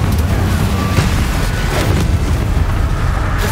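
Explosive Bombarda and Confringo spells cast in the video game Hogwarts Legacy, producing a loud, continuous rumbling blast with heavy low-end boom and no audible voices.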